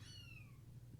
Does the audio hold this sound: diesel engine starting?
no